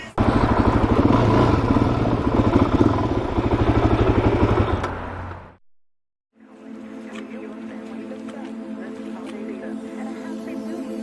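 A single-cylinder engine of a 2009 Suzuki DRZ400SM dual-sport motorcycle rumbles loudly nearby, cuts out for a moment, then returns to a steadier, lower idle.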